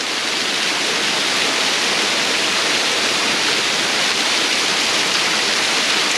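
Linda Falls waterfall pours with a steady, dense, full-bodied rush of falling water, loud and close, unbroken from start to finish, with no voices.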